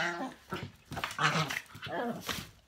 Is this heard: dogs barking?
yes